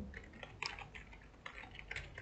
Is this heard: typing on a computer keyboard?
yes